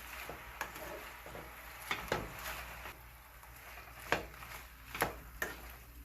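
Spinach being stirred in a pan to wilt while making spinach pizza: soft scraping and clinking strokes at an irregular pace over a low, quiet sizzle, with no talking.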